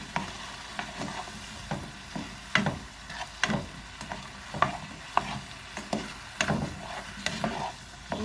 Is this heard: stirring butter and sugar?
yes